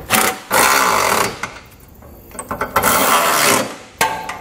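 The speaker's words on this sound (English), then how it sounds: "we can go ahead and tighten it down with an 11/16 socket" A socket ratchet with an 11/16 socket tightens the bolts of a Curt trailer hitch receiver on a 2017 Chevrolet Cruze, sounding as loud close bursts of rapid clicking separated by short pauses.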